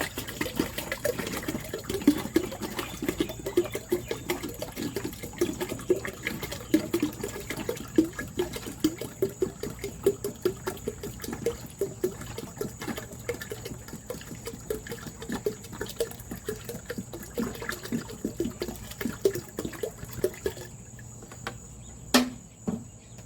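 Water poured from a gallon jug for yeast fertilizer, a steady bubbling splash with gurgling pulses that runs on for about twenty seconds before stopping, a faint high whine behind it.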